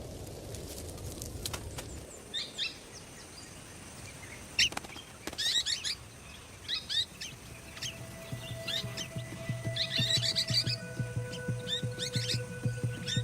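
Golden-shouldered parrots call in the bush, scattered short chirps and high tweets coming in bursts from moderate distance over a quiet outdoor background, growing busier toward the end.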